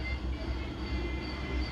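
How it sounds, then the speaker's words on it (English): A train's air compressor runs at the Strasburg Railroad in Pennsylvania, a close, steady low throb with rapid rhythmic pulsing under a constant mechanical hum. "You can hear the air compressor running"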